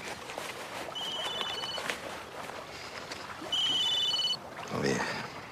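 A telephone rings twice indoors, each ring a short electronic trill over a quiet room background, with a brief soft sound just after the second ring.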